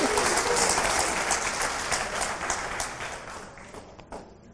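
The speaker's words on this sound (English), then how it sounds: "Go ahead, applaud that." An audience at the City of Gardena's 2018 State of the City Address breaks into loud, dense applause that holds steady and then gradually thins and fades toward the end.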